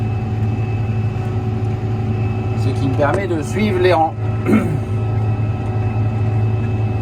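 A tractor hoeing a field runs with a loud steady engine drone and constant hum throughout, while someone talks over it for a few seconds midway.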